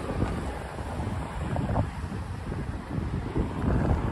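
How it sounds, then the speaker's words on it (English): Wind by the Hudson waterfront near the Intrepid Museum in Midtown Manhattan, New York, buffeting the microphone with a steady roaring rumble and gusty swells, with faint water and city noise underneath. "Let's see how windy it is"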